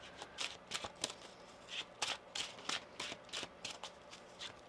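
Tarot cards being shuffled by hand: a rapid series of crisp riffling bursts, about a dozen quick flicks in an uneven rhythm, close and fairly quiet, with no talk.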